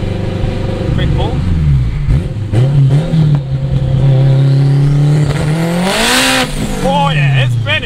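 A turbocharged, straight-piped 800 hp AWD 2002 Acura RSX Type-S spinning its wheels on a cold day, the engine droning loud and close before rising in a sharp rev, with people talking over it.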